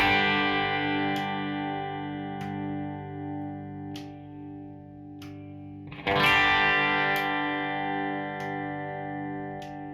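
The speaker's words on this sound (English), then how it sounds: "So bringing in the guitar sweetness switch, if I just play." A distorted Squier Vintage Modified Jaguar electric guitar on its bridge pickup rings out a sustained chord with faint periodic clicks, then a fresh strum brightens and swells the tone.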